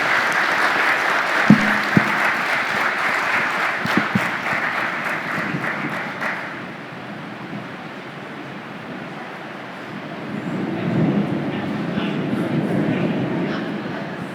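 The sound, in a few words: audience applause for conference panel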